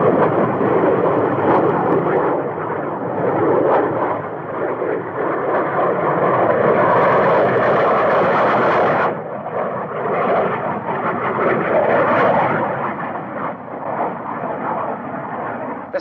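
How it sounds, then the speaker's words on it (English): Roar of jet fighter planes passing overhead, a loud sustained broadband rumble that swells and surges, dips briefly midway, then builds again, with no talk. "our jet fighter planes have already engaged the enemy"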